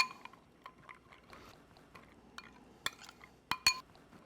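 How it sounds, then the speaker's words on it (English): A spoon stirs barbecue sauce with smoked paprika in a dish, soft scraping punctuated by a few sharp metallic clinks against the bowl, quiet and close. "Give it a good little mix there."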